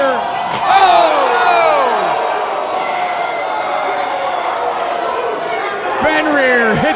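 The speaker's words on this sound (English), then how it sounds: "Fenrir hit the crowd with a thud." A wrestler is slammed into the crowd at a live wrestling show, landing on concrete outside the ring. A muffled thud sits beneath a steady roar from the audience, with excited commentary running over it throughout.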